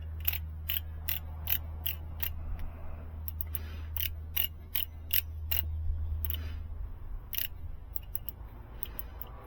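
A torque wrench ratchets on a Kenworth cabover engine's overhead during the 80-pound torque sequence, sharp repeated metallic clicks in quick bursts over a low steady hum.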